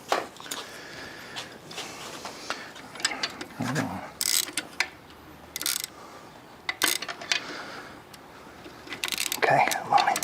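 A socket wrench ratchets on a connecting rod during a 1981 DeLorean engine teardown, with quick irregular clicking bursts and metallic clinks in a quiet shop, brief and close.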